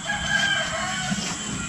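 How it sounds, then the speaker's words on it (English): A rooster crows outdoors on a farm, a brief, moderately loud call over a steady background hum, with no talking. "you hear the roosters crowing?"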